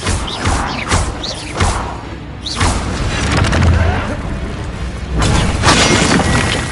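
A Bombarda blasting spell cast during a Hogwarts Legacy duel, several sharp thumping blasts with crackling bursts in quick succession, loud and close amid other spell effects.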